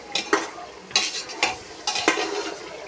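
Meat sautés in masala and oil for a Sunday biryani, with a soft sizzle under several scraping spoon-against-pot strokes at irregular intervals, close and moderately loud.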